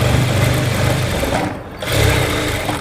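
A sewing machine runs steadily while stitching cloth at a tailoring class, a loud, close, fast mechanical whir with a brief slowdown midway before picking back up.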